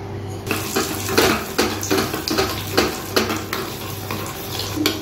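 Cashews and raisins frying in ghee for kalkandu pongal, a close sizzle with repeated stirring scrapes coming in regular strokes over a low steady hum.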